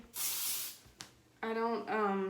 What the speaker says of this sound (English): I'm using this Great Barrier Heat Protected hairspray.